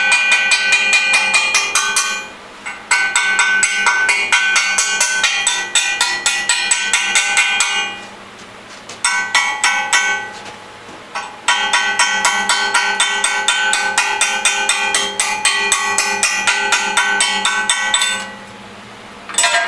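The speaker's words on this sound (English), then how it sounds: "another type of hammer for slag" A slag hammer chips slag off a weld made with a Lincoln TIG 200 Squarewave welder, a rapid stream of sharp, ringing metallic taps in long loud bursts with brief pauses between them.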